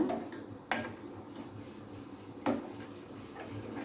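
Custard for a fruit custard being stirred in a pan, a soft continuous scraping and rubbing with a couple of sharper clinks of the spoon against the pan, close and fairly quiet with no talking.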